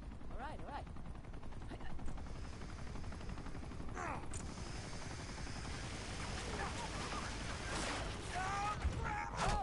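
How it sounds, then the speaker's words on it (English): In Uncharted 2: Among Thieves, an enemy helicopter fires on the player: rapid bursts of gunfire over a steady rotor rumble, with someone talking over the game action throughout. "So the helicopter is still like active, so it's still shooting at us"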